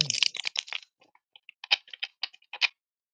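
Tarot cards being shuffled: crisp, rapid papery ticks and slaps in a quick flurry, then a pause and a few lighter bursts of riffling, close and fairly quiet.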